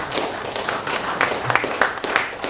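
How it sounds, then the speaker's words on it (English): Audience clapping at the Freedom of Religion 2019 conference, a dense patter of many hands applauding close by with no talking. "I think we should give Dr. Atang one more round of applause"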